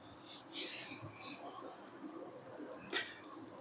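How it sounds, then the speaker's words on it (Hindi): A few short scratchy strokes of writing on a board during a physics lesson on Kirchhoff's laws, faint and close, with a quiet voice murmuring in between and one sharper stroke near the end. "इधर लिखता हूं"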